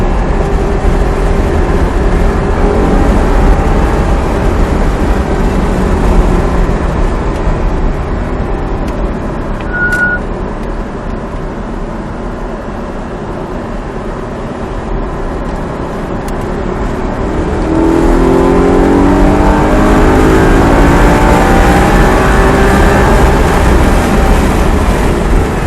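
Audi R8 on the Haute-Saintonge race track, its engine loud and continuous from inside the car, dipping slightly mid-run then climbing again in pitch as it accelerates.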